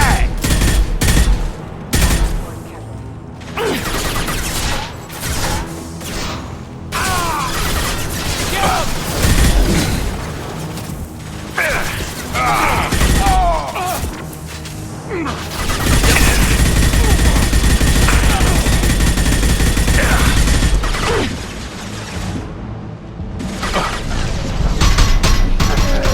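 Heavy gunfire rattles through a Mass Effect 2 firefight, with rapid bursts and sustained automatic volleys packed close together, plus mechanical clanks and short quieter gaps between the loud stretches.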